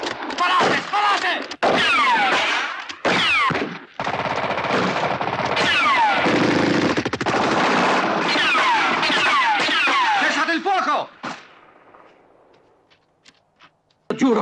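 Sustained gunfire in an Italian crime drama film shootout, with dense bursts of machine-gun and rifle shots over about ten seconds, mixed with shouting and sirens-like whines, then cutting out to near silence with a few last isolated shots.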